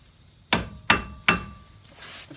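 Three sharp, ringing hammer blows in a slow, even rhythm drive out the lower ball joint on a Peugeot 107 front suspension during a wheel bearing job, each strike close and loud with a short decay.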